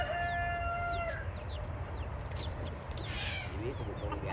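Chickens kept by a homeless Vietnamese cowboy in the US cluck in a steady noisy farmyard, with a few higher calls and a distant rooster-like cry over constant low background rumble.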